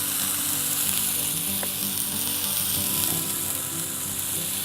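Cheese sizzles steadily on a hot Blackstone flat-top griddle, ready for a Philly cheese steak quesadilla, with a loud, even frying hiss throughout and a faint low hum beneath.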